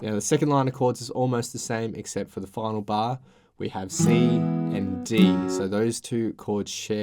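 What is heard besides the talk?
No everyday noises stand out.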